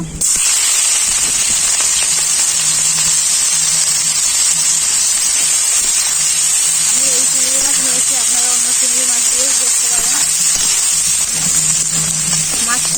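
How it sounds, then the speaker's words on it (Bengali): Prawns frying in hot mustard oil in a kadai, a loud, dense hiss of spitting oil running steadily throughout, close up, with a faint hum partway through. "চিংড়ি মাছগুলো ভেজে নেব"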